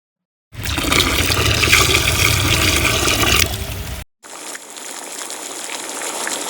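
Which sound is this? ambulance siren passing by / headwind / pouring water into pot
pouring water into pot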